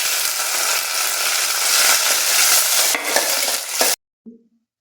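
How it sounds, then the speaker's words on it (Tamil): Onion, garlic and curry leaves frying in a pan while being stirred: a dense, close hiss of sizzling with scraping stirs, stopping abruptly, followed by a brief faint knock. "இப்போது வெங்காயம், பூண்டு, கருவேப்பிலை எல்லாத்தையும் ஒன்றா போட்டுறாரு."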